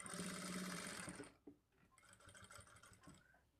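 A sewing machine stitches a lining blouse near the tucks in a fast, whirring run that stops after about a second, then gives a few shorter, softer bursts, close by and quiet.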